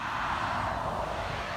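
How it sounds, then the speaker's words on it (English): A continuous broadband roar of passing road traffic fills the clip, steady and moderately loud, with no voices. "sorry for the traffic noises. We live right by the road."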